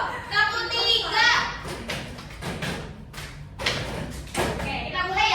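Classroom children do the 'tepuk 3' clap pattern, producing repeated hand claps and thuds in bunched groups while young voices talk and shout across the room.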